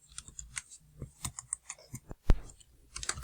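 Irregular light clicks and taps of keys being struck, quick and close, with a few louder knocks mixed in.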